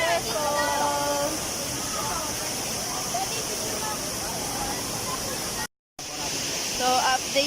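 Baler Falls waterfall, a steady broadband rush of falling water heard under people talking, with a brief dropout near the end.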